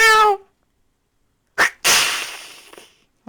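A person's voice imitates a serval big cat call: one short harmonic yowl, then silence, a brief breathy burst and a longer hissing, spitting rasp that fades out, close and loud.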